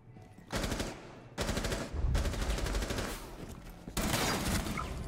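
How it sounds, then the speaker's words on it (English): Automatic gunfire in a Rainbow Six Siege match: several loud, close, rapid bursts from a firearm, separated by very short pauses, with clashing shots and impacts filling the mix. "Can you keep shooting at him?"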